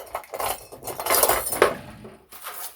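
Utensil scraping and clinking in a bowl while mixing seasoned breadcrumbs, an irregular run of gritty stirring sounds with light metallic taps, close and alone.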